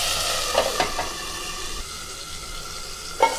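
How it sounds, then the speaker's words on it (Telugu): Chopped tomatoes sizzle in a pan for a coriander chutney, giving a soft continuous hiss broken by a few scraping stirs and clinks, with no voices. "కొన్ని టమాటాలు ఇక్కడ కట్ చేసి పెట్టుకున్నాక టమాటాలు కూడా ఇందులో వేసేద్దాం."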